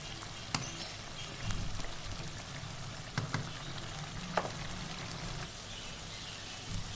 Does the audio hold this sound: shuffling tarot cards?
no